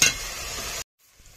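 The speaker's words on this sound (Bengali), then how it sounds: "এখন আমি মাংসটা দিয়ে দেব।" Chicken meat hits hot spiced oil while cooking chicken with raw jackfruit, giving a loud, close, hissing sizzle that starts with a sharp burst, holds steady for under a second, then cuts off abruptly to near silence.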